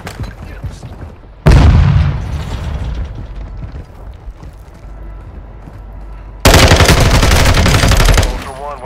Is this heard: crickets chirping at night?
no